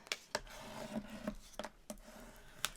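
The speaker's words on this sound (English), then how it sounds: "And our little scraper to burnish as always." A small scraper tool burnishes craft vinyl with quick scraping and rubbing strokes, about eight sharp passes in an uneven rhythm, close and fairly quiet.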